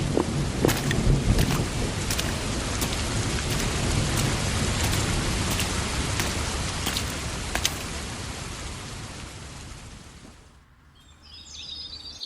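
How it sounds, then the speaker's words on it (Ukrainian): Heavy rain pours steadily with occasional sharp cracks and low rumbles of thunder, then the downpour thins and quiets near the end. "зараз ще машина намокне ще й ця гроза"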